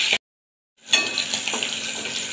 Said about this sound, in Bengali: বেশ সুন্দরভাবে বাদাম আর চিংড়ি মাছটা ভাজা হয়ে গেছে, তুলে নেব।